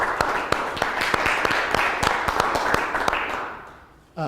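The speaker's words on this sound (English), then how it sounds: "I'd like to give one more round of applause for our 3 presenters" A round of applause for three presenters at a business talk event, many hands clapping steadily and fading out over about four seconds.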